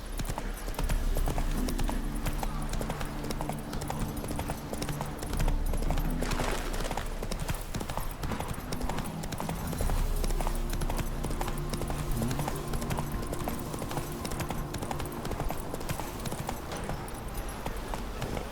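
A horse gallops in The Witcher 3, its hooves pounding in a quick, steady clip-clop rhythm that carries on without a break, close and loud, over a background of game ambience.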